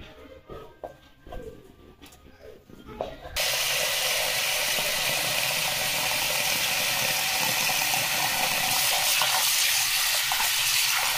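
Finely chopped spinach is rinsed under clean running water: a few faint clicks and handling knocks, then a sudden steady, loud gush of flowing water that continues to the end.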